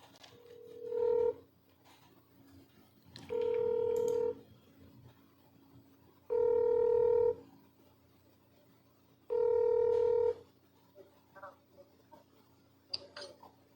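A phone call being dialed and connected, four long steady ringback tones spaced evenly and loud against a quiet line, followed by brief faint clicks and a short burst of voice at the end.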